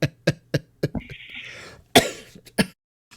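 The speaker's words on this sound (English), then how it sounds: "I cough every time I laugh" A run of sharp, close coughs in quick succession, with a brief strained wheezy breath partway through, then a few more coughs trailing off.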